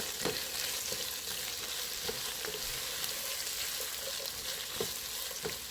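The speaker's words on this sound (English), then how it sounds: "The oil is heated, so I'm going to add in the onions, the bay leaves, and the rosemary to it at this time." Onions, bay leaves and rosemary frying in hot oil for a Ghanaian chicken angwamu, a steady close sizzle with scattered crackles and pops throughout, no talking.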